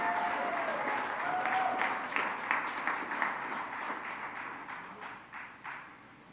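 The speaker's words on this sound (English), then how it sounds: "Another round of applause for our state championship team." Applause for the 2022 softball state championship team at a school board meeting, fairly faint steady clapping from a small audience that swells and fades slightly across the stretch.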